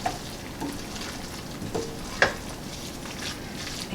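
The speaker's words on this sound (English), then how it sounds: "I'm going to remove my bay leaf and just give everything a stir." A pot of cooked rice and red beans is stirred, with soft wet scraping and faint sizzling at low volume and one sharper knock of the spoon midway.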